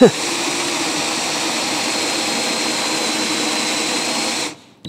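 A Forstner bit bores through thick material, its drill whining in a steady, loud, broadband roar that holds for several seconds before cutting off abruptly near the end.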